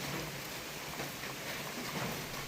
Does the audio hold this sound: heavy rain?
yes